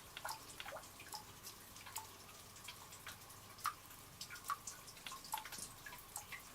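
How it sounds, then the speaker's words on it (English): Water dripping inside an old muddy coal mine, irregular faint plinks and drops echoing against a quiet hum, some closer and sharper than others. "Yeah, water's dripping"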